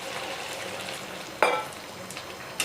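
Mutton curry sizzles in a pressure cooker pan as water is poured in, a faint steady frying hiss with a sharp louder burst midway and another brief flare near the end.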